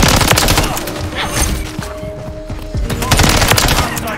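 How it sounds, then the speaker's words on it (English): Dense automatic gunfire from assault rifles in the shooter game Modern Warfare 3 (MW3) fills the whole stretch, with rapid overlapping bursts and thudding impacts that stay loud and close throughout. "I'm taking effective fire."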